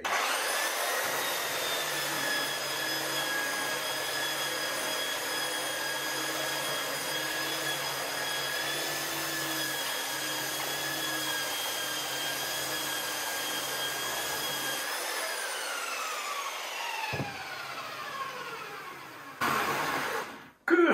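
A belt sander runs over a workbench with a loud, steady whirring drone and gritty abrasion, then winds down and stops, followed by a few knocks and handling sounds at close range.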